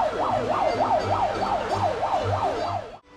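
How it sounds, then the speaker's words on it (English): A siren wails near a beach square in Sanya, China, a loud rapid up-and-down electronic whoop repeating steadily before cutting off abruptly. "every time you hear this siren go off, there is a foreigner leaving the square"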